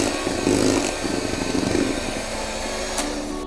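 An electric mixer whirs through chocolate cake batter as flour is added, a steady close motor drone with grinding texture that eases slightly in intensity after the first couple of seconds.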